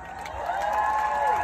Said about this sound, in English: I want everybody to give Fiona a massive cheer.